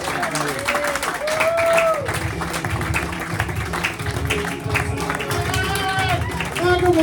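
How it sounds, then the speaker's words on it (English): A comedy show audience at the Darwin Fringe 2024 festival claps in sustained applause, with a voice speaking over the clapping throughout. "Give him a big round of applause."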